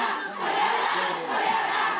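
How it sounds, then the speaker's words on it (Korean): A large crowd of around 200 daycare association members at a public briefing boos and shouts together in a loud, continuous roar of massed voices that swells and holds throughout. "어린이집 연합회 관계자 200여 명이 야유와 고성을 쏟아냅니다."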